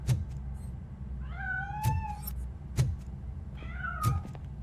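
A cat in the RoboCop: Rogue City game gives two drawn-out meows over a low ambient hum, with sharp thuds landing between the calls.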